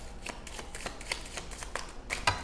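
A deck of cards being shuffled by hand: rapid papery riffling flutters repeat in quick succession, close up and soft against a faint background hiss.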